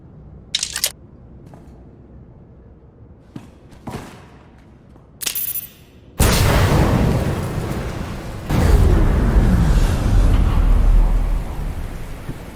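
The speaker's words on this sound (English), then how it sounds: "Reports of an explosion near the ion cannon." An explosion goes off near an ion cannon in the video game Star Wars: The Old Republic: a few sharp clicks, then a sudden loud rumbling blast that rolls on and swells again before fading.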